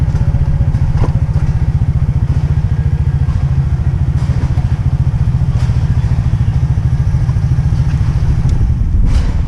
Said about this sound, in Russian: здесь уже довольно много мотоциклов